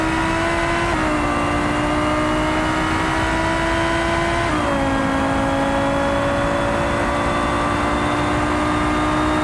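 A Civetta car in the BeamNG.drive racing game revs hard with a loud, sustained engine whine that rises through the gears, dropping in pitch twice at the shifts before climbing again, with no talk over it.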